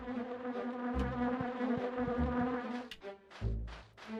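Bees buzz steadily in The Grinch video game on PS1, a droning insect hum that carries through the whole stretch with short sharper game effects near the end.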